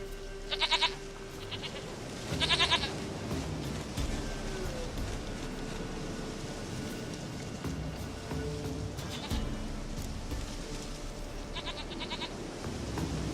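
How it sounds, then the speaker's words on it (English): Goat bleats from The Witcher 3: Wild Hunt, a few short separate calls spread across the clip, heard over a steady bed of ambient rain and game background sound. "goat of mine, dearest, sweetest goat."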